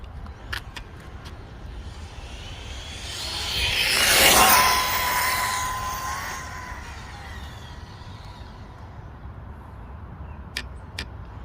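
ARRMA Typhon 6S V5 RC car with an earplugged center diff, a brief high-pitched electric whine swelling loud around the middle as it speeds past, then fading, with faint ticks and clicks before and after.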